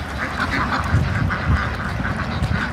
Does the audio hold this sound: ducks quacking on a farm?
yes